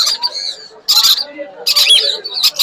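Young lovebird chicks calling at the Mirpur 1 bird market, sharp high squawking bursts in short clusters, close and loud, with quieter chirps between.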